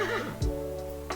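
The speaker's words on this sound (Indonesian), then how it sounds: "Iya, ini hewan kuda." A recorded horse neigh is played aloud in a classroom, a single loud, quavering whinny with a snort near the end. It comes through alone, with no talk over it.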